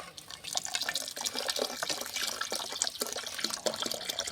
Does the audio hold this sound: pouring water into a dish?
yes